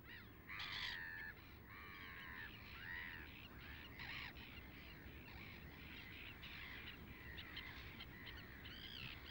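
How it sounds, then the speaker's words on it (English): Black-headed gulls call harshly over a shoal of fish along the coast at Leap, giving repeated squawking cries from several birds over steady wind and water noise. "Along the coastline at Leap, black-headed gulls have found a shoal of fish to feed on."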